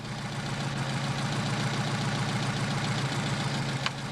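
A Mercedes 190SL engine fitted with a Solex PHH44 carburettor idles at about 700 rpm, making an even, rhythmic low mechanical chugging heard up close and steady throughout, with no talking.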